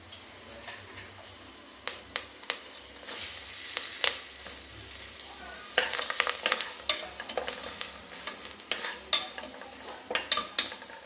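Sliced large onion and curry leaves frying in a biryani pot for Dindigul mutton biryani, with a steady low sizzle under repeated sharp scraping and knocking strokes from a stirring spoon, close and fairly loud, no talking.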